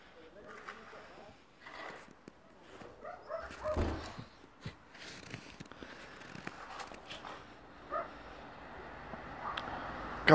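A dog playing in backyard snow whimpers and yips in short, scattered bursts, close and fairly quiet, while people talk intermittently.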